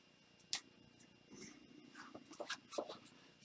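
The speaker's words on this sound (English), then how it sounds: "I should probably write that down" A voltage reading gets written down by hand, with soft, close pen scratches and small taps in short bursts in a quiet room, with faint murmuring.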